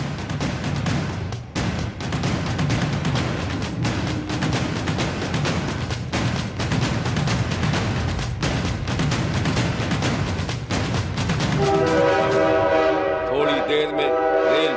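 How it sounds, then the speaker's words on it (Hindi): A departing passenger train at a station rumbles and chugs in a dense, continuous roar, then its horn blares in a long sustained blast near the end. "थोड़ी देर में रेल छक छक करके अपनी मंजिल की तरफ रवाना हो गई"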